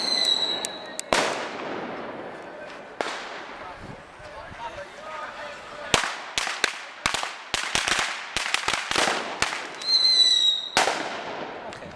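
Firecrackers and fireworks go off in daytime at the Fallas festival in Valencia. Sharp, loud bangs come in irregular bursts, with quick runs of cracks in the second half, and people talk and call out between them.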